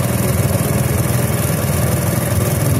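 Motorcycle engine with its carburettor being tuned runs steadily close by, a continuous mid-pitched drone without clear revs, loud and alone.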